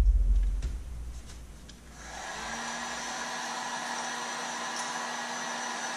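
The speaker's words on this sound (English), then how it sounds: "Let's hit it with the heat gun over here really quick." A heat gun dries a light coat of color-shifting paint, blowing a steady, close, airy hum that starts after a quiet moment and runs without a break.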